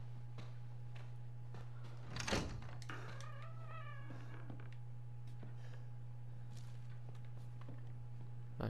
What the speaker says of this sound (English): The door shut.